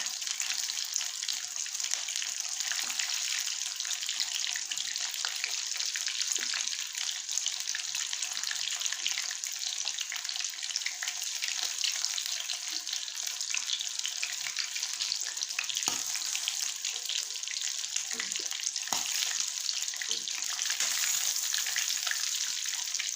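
Chicken drumsticks fry in a pan on one side over low heat, giving a steady, dense sizzle and crackle that runs unbroken and fairly close throughout, with faint occasional knocks.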